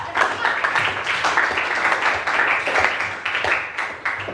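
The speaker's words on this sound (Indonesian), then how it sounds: "Kita tepuk tangan tuh" A classroom of students claps together after group work, a dense, steady patter of many hands lasting several seconds at moderate loudness with no words spoken.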